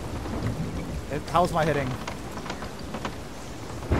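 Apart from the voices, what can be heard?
thunderstorm at sea in the video game Sea of Thieves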